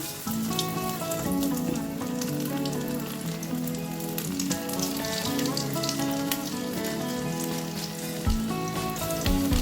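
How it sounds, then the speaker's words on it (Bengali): Fish fingers fry in hot oil with a steady, dense sizzle that runs through the whole stretch, partly covered by louder background music. "তেলটা গরম হয়ে গেছে, আমি এটা ছেড়ে দিই।"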